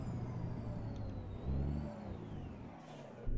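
A heavy tractor truck in American Truck Simulator brakes hard to a stop, with a steady engine rumble swelling briefly midway, a faint whine and an air-brake-like hiss near the end.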